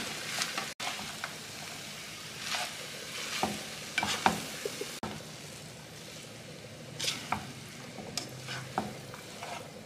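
Rice for nasi goreng sizzles and fries in a hot wok, with intermittent scraping and stirring strokes over a constant crackle, close by.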